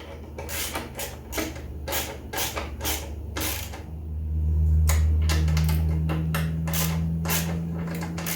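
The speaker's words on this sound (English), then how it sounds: "With those 4 bolts lightly installed, now we can tighten them up." Bolts being tightened on the frame of a 1978 BMW R 80/7 motorcycle, a quick series of close ratcheting clicks followed by a steadier low hum, with no talking.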